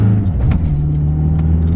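A 2.3-litre Mitsubishi Evo TME engine lurches and stutters at low rumbling revs, bunny hopping and jerking unevenly as the twin-plate clutch grabs, loud and close from inside the cabin.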